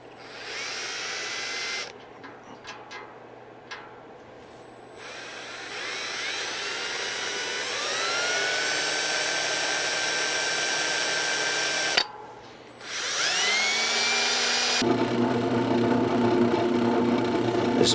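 A drill press bores holes through very hard metal in a workshop, its motor whining at a steady pitch that climbs as it spins up, twice, with a brief pause between runs and a constant low hum underneath.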